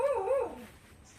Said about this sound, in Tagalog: Ayan yung aso nila guys, tahol lang ng tahol.